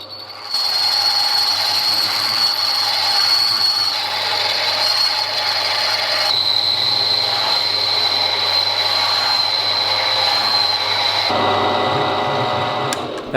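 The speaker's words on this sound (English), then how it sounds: "Here I am on the mill drill, just setting up the holes for the base plates for the wheel attachments" A mill drill runs a 12mm bit at high belt speed, boring holes in steel base plates for table-base wheel attachments; a steady, close, continuous whine and grinding rattle lasts throughout without talk.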